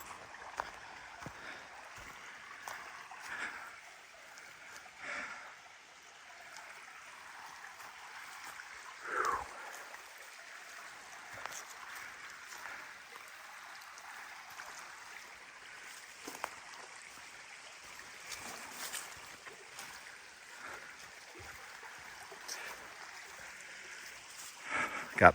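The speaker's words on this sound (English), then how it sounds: "the water running." Steady, soft flow of river water running beside a wooded tent campsite at a free dispersed camping area, a continuous gentle wash with a few faint knocks, heard at a modest distance.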